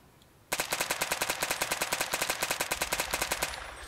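Rapid automatic fire from a suppressed gun in a Fallout New Vegas mod, a loud, steady string of about thirty sharp, evenly spaced shots that starts abruptly and runs for roughly three seconds before cutting off, with no voices.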